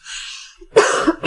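A woman coughing, a faint breathy sound followed by two or three sharp, close coughs in quick succession, heard alone.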